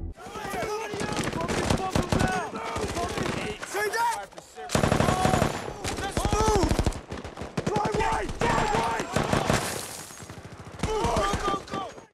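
Rapid gunfire from a film battle scene, bursts of automatic fire and single shots trading back and forth as troops move on a building held by enemies, loud and dense with a music score and voices mixed underneath.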